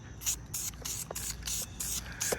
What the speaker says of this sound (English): Check the cam well, and you're gonna spray this.